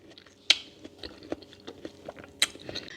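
Soft, close chewing of peeled Muscat grapes, with a few moist bites and a couple of sharper crunchy clicks, quiet and alone.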